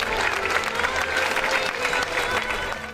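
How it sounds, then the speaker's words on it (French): Crowd at a medieval fair in Crest applauds a falconry display, a full, steady round of clapping with a murmur of voices mixed in. "merci d'applaudir chaleureusement nos compagnons."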